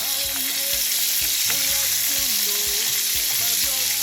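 Akara bean fritters frying in hot oil, a dense continuous sizzle and crackle with spatters, close and loud, with no talking.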